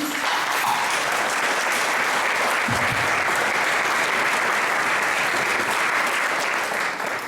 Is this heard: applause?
yes